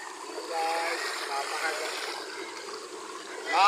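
A clear river at Batong Buaya flows in a soft, steady rushing wash that holds at a faint level throughout and swells slightly at the end.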